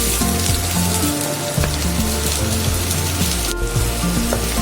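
Chopped onion frying in hot oil in a pan, a steady close crackling sizzle that holds loud and even throughout, over quiet background music and with no talk.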